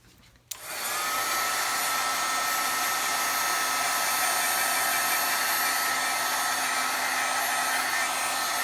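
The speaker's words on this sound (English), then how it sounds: "I'm going to zap it with the heat tool again, just to make sure." A heat embossing tool switches on with a click and then blows a loud, steady rush of hot air over a crafting window sheet, continuous droning whoosh held for several seconds close by.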